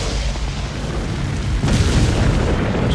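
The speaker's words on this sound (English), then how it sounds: "Explosion." Explosion in Resident Evil 4 on PlayStation 4: a loud, deep boom rises sharply partway through and rumbles on heavily to the end.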